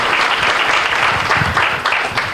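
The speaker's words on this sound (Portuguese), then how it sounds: "Salva de palmas para receber o Vitor." Dense applause from an audience at an engineering-week event welcoming a guest speaker, steady and continuous throughout with no pauses.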